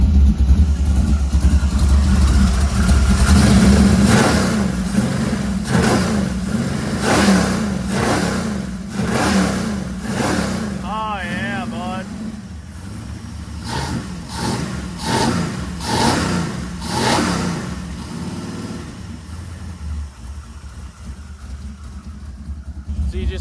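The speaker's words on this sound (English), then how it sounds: "Let's see how this thing revs up now." A carbureted drag car engine revs hard in a series of sharp, loud bursts that settle into a lumpy idle between blips. Someone speaks briefly partway through.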